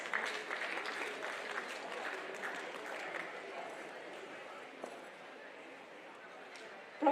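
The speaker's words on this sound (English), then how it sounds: "Please give him a huge round of applause." A conference audience applauds as a guest comes on stage, a steady wash of clapping that slowly fades toward the end.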